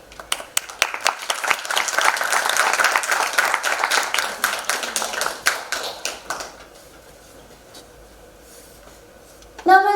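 An audience applauds a demonstration team in a hall. The clapping is loud and dense and fades after about six seconds into quiet room tone, with a brief knock near the end.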